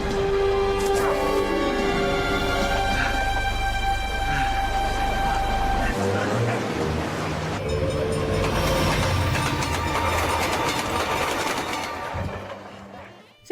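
A train runs through a crime-comedy film scene, a heavy rumble with rattling cars and clatter under a layered mix of tonal sounds, loud and continuous before tapering off at the end.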